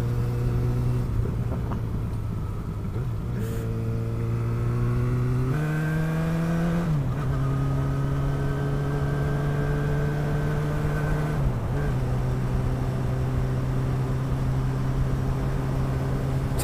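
A motorbike ride on a sunny day, the engine droning steadily and close with rising and falling tones as it accelerates and shifts through the gears, under constant wind rumble.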